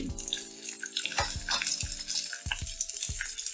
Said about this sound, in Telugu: ఈ వంద గ్రాముల ఆయిల్ పోసుకున్న తర్వాత దీంట్లో మనం పుదీనా ఆకును వేసి మగ్గించుకోవాలి